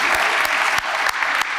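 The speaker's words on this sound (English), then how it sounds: "a quick round of applause for Brianna" A short burst of applause from a room of people at a public heating pump forum, steady clapping throughout with a few sharper claps standing out.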